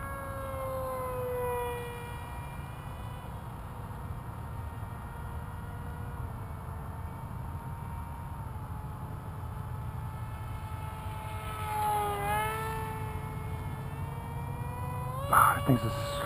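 RC model F-22 jet making slow, low flybys, its steady whining motor tone holding throughout and rising and falling in pitch as it passes, at moderate distance over a constant background hum.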